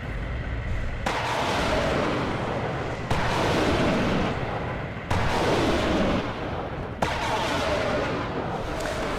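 Buratino rocket artillery firing in the battlefield game WARNO, four heavy rumbling salvos about two seconds apart, each a loud broadband roar of launches that decays before the next volley begins.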